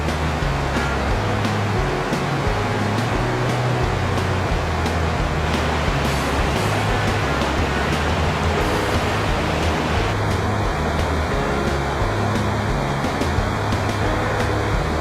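Steady, dense rushing of a waterfall at a pretty overlook, seen from above, with a broad continuous roar that holds at an even loudness throughout and no voices.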